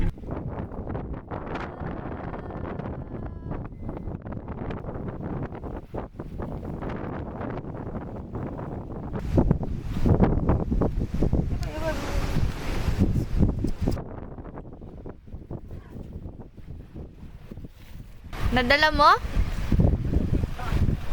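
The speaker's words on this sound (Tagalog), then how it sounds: "Nakakatakot yung alon." Wind and sea waves buffet a small boat at sea, a rough roaring wash with heavy wind rumble across the microphone, rising in bursts, while people talk and exclaim over it.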